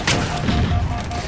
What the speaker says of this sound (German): Nein, das war ein Schuss.